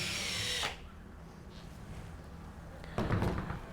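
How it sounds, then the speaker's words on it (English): A power drill whirs briefly drilling holes in a trash container, stops, then starts again after a pause; close and fairly loud with a rough, grinding tone. "Follow that up by actually drilling the holes in."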